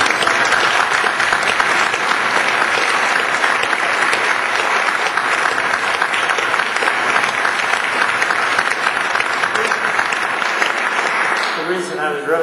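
Sustained audience applause fills nearly the whole stretch, a dense, steady roar of clapping from a large crowd at a political event, tapering off in the final second.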